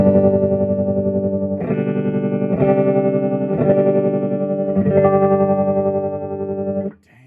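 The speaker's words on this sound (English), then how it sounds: "Wow, that tremolo sounds really" Guitar chords played through a Silvertone 1484 tube amplifier with its tremolo switched on, loud and sustained, changing roughly once a second and pulsing steadily, ringing alone with no talking before cutting off at the end.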